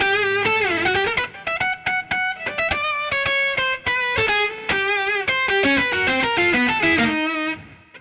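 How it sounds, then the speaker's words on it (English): BOSS SY-200 guitar synthesizer playing pure synth tones, a steady stream of bright, sustained harmonic notes that shift in pitch and articulation, loud and continuous without talk. "So you just get the synth tones."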